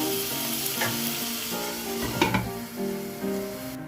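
Mackerel fillets pan-frying skin side first, a steady close sizzle with a few soft clinks of a utensil against the pan, no talk.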